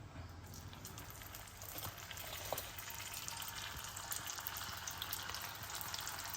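Butter added to cooking caramel for caramel popcorn gives a soft, continuous bubbling sizzle that swells slightly after a couple of seconds and then holds fairly quiet and even.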